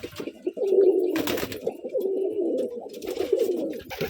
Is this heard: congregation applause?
no